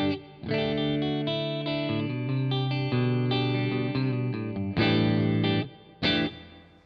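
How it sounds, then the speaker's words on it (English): A guitar runs through a TC Electronic Hall of Fame pedal on its hall reverb setting, sustained chords and notes blooming into a lush, lingering tail, loud and close with no talking. "So it's pretty lovely Hall type reverb."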